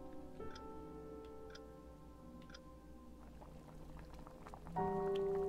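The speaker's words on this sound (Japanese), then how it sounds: "時計を刻む肺の音が、やけに耳につく。" A steady, regular clock tick in a horror video game runs throughout under a low ambient hum and soft crackling of fire, with a sustained tone swelling in near the end.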